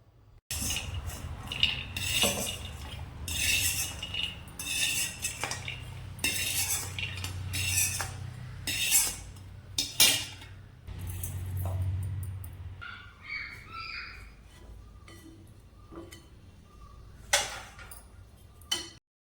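Washed steel dishes, utensils and cutlery clink and clatter as they are stacked away in a home kitchen, with irregular close metallic knocks throughout and a dog barking and whimpering at times in the background.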